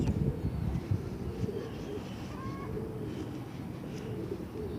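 Soft, low pigeon coos come in a murmuring cluster at a Sunday bird market in Multan. The calls sit close under steady background noise, and a voice can be heard talking faintly.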